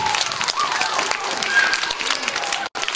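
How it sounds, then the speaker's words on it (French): Audience clapping for a little girl during a clown's magic show, a dense steady patter of applause that carries on for the whole stretch before cutting out briefly near the end. "On applaudit la petite fille."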